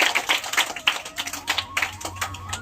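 Children clap in a loose, uneven burst at a gathering where kids are being quizzed, the patter of small hands fairly close and lively, with faint voices and a low hum underneath.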